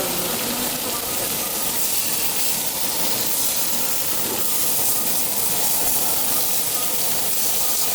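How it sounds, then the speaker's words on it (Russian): Meat sizzling on a Korean barbecue grill, a steady, close, broadband hiss and crackle of frying that runs throughout without a break. "Ну вот то мясо надо будет жарить уже на новой этой подложке."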